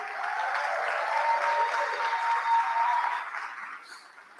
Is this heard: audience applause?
yes